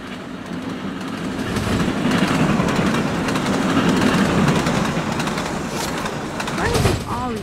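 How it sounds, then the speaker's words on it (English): Trains running on rails in the Trainz Driver 2 video game, a steady rolling rumble with clickety-clack that swells and fades, with a person talking over it toward the end. "Oh my god, there are two trains."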